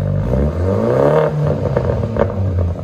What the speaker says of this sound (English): Now it's got that distinctive BMW marble